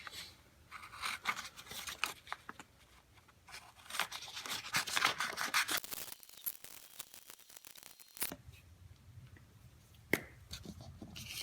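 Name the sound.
cutting out paper craft with scissors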